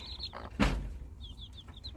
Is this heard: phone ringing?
no